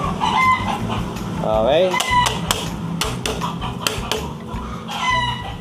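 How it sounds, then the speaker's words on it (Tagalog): Chickens cluck repeatedly and a rooster crows nearby in a loud, busy farmyard chorus, with a person speaking briefly over the birds. "Ito na naman yung mga manok eh."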